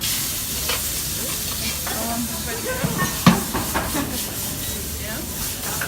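Garlic and prawns drop into smoking-hot oil in a wok and sizzle with a steady hiss, with stirring clatter and a sharp clank near the middle, while people chat over the cooking.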